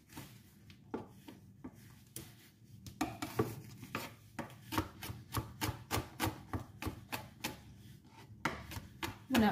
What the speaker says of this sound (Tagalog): Hihiwain na natin ang ating garlic at onion at parsley.